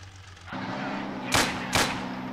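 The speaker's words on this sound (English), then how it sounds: "Oh, it's an anti-tank gun." Anti-tank gun fire in Gates of Hell, two sharp, loud, close cannon shots less than half a second apart, rising out of a low engine rumble of vehicles on a flooded lowland battlefield.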